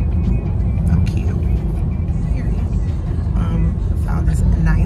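Interior of a taxi on the move, with a steady low road rumble and engine drone filling the cabin, and a person talking over it throughout.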